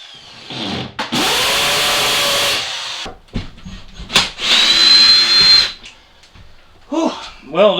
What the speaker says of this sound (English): I'll get a drill and start drilling these out